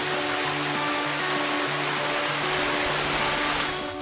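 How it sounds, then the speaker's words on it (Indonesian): A waterfall in Iceland, the one nearest the airport and capital, roars as a steady, loud, dense rush of falling water that stays constant throughout, with no voices. "Air terjun ini yang paling dekat dengan bandara dan ibu kota."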